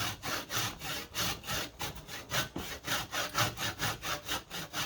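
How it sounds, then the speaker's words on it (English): A coarse, aggressive hand saw rasps back and forth at a workbench in quick, even strokes, roughly three per second, close and steady with no talking. "I had to get a more aggressive saw."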